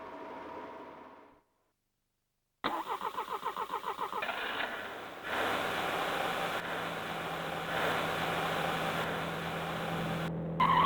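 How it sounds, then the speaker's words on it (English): A car engine on a New York street starts with a rapid cranking stutter, catches and then revs up into a loud, sustained mid-pitched roar that rises near the end, heard close and alone after a brief silence. "a car revved up on a New York street"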